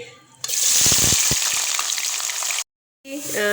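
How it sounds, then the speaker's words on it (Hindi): Onions hit hot oil and burst into a loud, close sizzle that holds steady for about two seconds, cuts off, then resumes with some faint clatter. "ऑयल हमारा गर्म हो गया। हमने 2 अदद प्याज लिए थे, वो शामिल कर देते हैं।"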